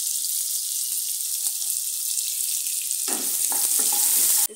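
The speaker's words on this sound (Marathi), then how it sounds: "आणि त्याच्यामध्ये आता कांदा आणि मिरची घालून घेते।" Onion and chili frying in a pan for egg fried rice, a steady loud sizzle throughout that swells as the ingredients go in near the end, with no talk over it.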